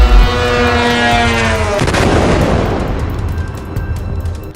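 A missile strike lands in a city of high-rise buildings with a heavy booming blast, followed by a long rumbling roar that slowly fades.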